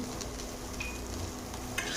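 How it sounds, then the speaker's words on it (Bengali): Potatoes and lentil dumplings (bori) fry in hot oil in a home kitchen, giving a steady close sizzle with light stirring scrapes that continues evenly throughout. "এবার তেলের মধ্যে আলু আর বড়ি একসঙ্গে ভেজে দেবো"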